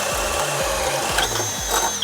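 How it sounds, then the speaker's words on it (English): A Milwaukee 12V hammer drill on speed 2 with a 3/4 inch Diablo Speed Demon bit, its rapid hammering pulses and rising motor whine close and loud, with periodic thumps as the bit bores in. "And now with the Milwaukee 3/4 inch Diablo Speed Demon in speed 2."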